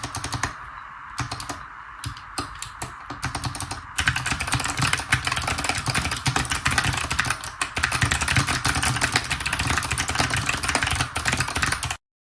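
Typing on a Kinesis TKO 60% mechanical gaming keyboard, sparse individual keystrokes at first, then a rapid, dense, steady stream of clacky key presses, close and alone.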